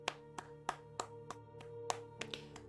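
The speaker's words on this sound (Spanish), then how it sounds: "Yo voy a aplaudir hasta que se terminen los créditos" Hand clapping during a Roblox SCP roleplay game, about ten sharp claps in a loose, uneven rhythm, fairly close and alone over a steady background tone.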